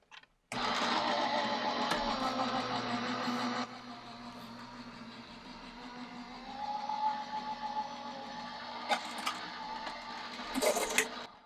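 A card die-cutting machine draws a card through at an angle, producing a steady mechanical whir that drops in level partway, then rises again with a few knocks near the end.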